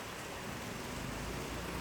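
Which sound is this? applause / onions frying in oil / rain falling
rain falling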